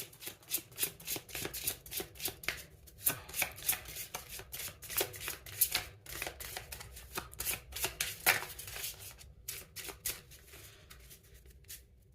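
A deck of Egyptian Oracle cards being shuffled by hand, a close run of quick, crisp riffles and slaps that repeat irregularly throughout with no talking.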